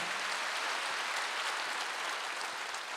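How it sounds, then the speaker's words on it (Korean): A church congregation at a Korean Wednesday worship service claps together, producing a steady, dense wash of applause that holds at an even level for the full three seconds. "박수 한번 주세요."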